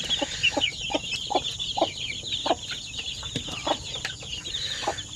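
Chickens and chicks at a rainy-season poultry farm make repeated short clucks and high cheeping calls in a steady stream, fairly close and moderately loud.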